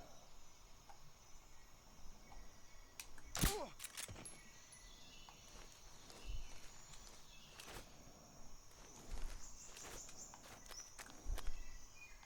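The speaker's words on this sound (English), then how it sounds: "I hear some footsteps, but I don't see anyone." Footsteps in the video game Metal Gear Solid 3: Snake Eater: faint, irregular steps and soft scuffs against a jungle ambience of insects and birds, with an occasional sharper knock.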